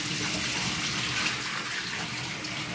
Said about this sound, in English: washing off the salt fish like that.